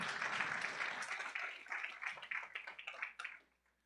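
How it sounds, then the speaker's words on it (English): Audience applause at a startup pitch competition award ceremony, dense clapping that starts strong, thins gradually and dies away near the end, leaving near silence. "Let's give it another round of applause for Hunter."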